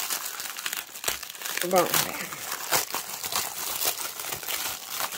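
Plastic packaging bag crinkling loudly and continuously while a cross-stitch kit is unboxed, with someone speaking French briefly over the rustling.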